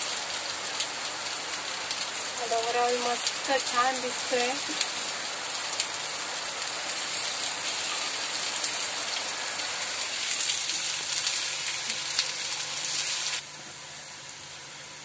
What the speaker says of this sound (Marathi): बाहेर मस्त पाऊस पडलाय,